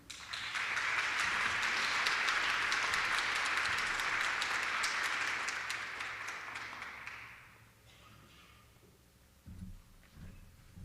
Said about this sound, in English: Please give a warm welcome and appreciative round of applause